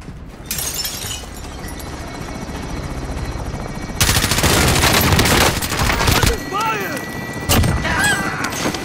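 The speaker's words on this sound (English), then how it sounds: "Helicopter is exiting the AO." In Call of Duty: Modern Warfare (2019), loud, sustained rotor roar and engine wash from an extraction helicopter, joined partway by heavier rumbling bursts, close and dense throughout.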